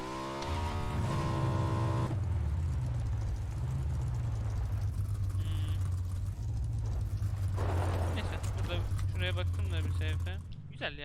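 A motorcycle engine in the PUBG video game on the Miramar map, a steady low drone running throughout, with players talking over it and some game effects and music.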